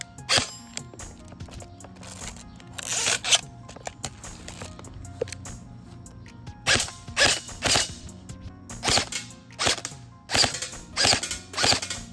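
A $110 or $48 airsoft gun fires BBs. Sharp snapping shots come close by, first singly and in pairs, then in a quicker irregular run of about a dozen, with faint mechanical clicks between them.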